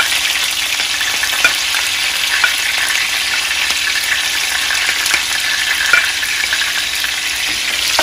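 Chile, onion and garlic frying in oil, a loud, continuous bright sizzle with small crackles and pops scattered through it, close by and steady, with no talking.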